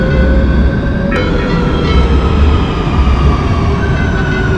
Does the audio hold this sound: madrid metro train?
yes